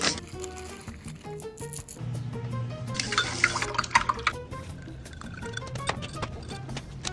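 Bike chains, a $100 Izumi Super Toughness fixed-gear chain and a $40 chain, are dunked and sloshed in salt water, giving watery splashes, drips and metallic clinks with a brief louder burst of splashing midway, no talking.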